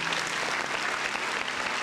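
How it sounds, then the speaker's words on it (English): Steady applause from a crowd, a dense unbroken wash of clapping that fills the whole stretch at even loudness, with no voices over it. "Listen, big round of applause for the folks in the chat"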